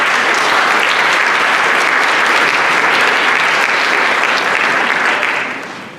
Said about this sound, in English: Students, I believe your parents deserve a round of applause for all they have done to get you to this point.